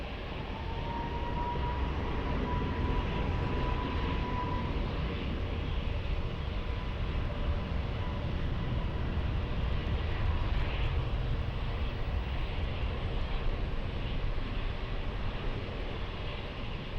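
An airplane powers up for takeoff on runway 20 at Lisbon Airport, a loud, sustained engine roar with a steady low rumble and a faint rising whine, heard from a distance and holding level throughout without letting up.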